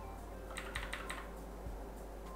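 Typing on a computer keyboard while working in Emacs, a short burst of several close, crisp key clicks over a steady low background hum.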